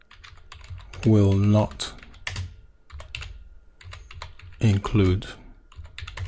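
Short bursts of clicky computer keyboard typing sound close under a man's speech.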